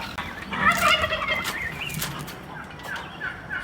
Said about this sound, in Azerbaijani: Onlar da hindişkalarımdır uşaqlar.